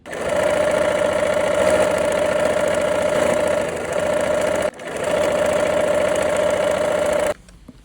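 A sewing machine stitches fabric pieces together in a steady, close motor hum with a fine rapid clatter, pausing once briefly before running again and then stopping near the end.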